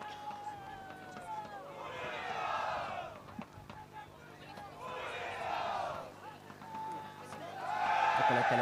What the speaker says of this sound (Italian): Se l'audio ci viene incontro potete sentire l'urlo di battaglia